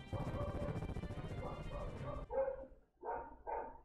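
A dog barks several times amid game audio and a talking voice, loud sharp barks in quick succession followed by two shorter yips.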